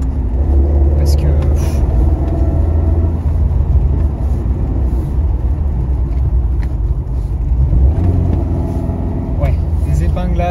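A 1981 Talbot Sunbeam Lotus rally car engine roars loudly and steadily from inside the cabin on a mountain road, with deep rumble and shifts in revs throughout.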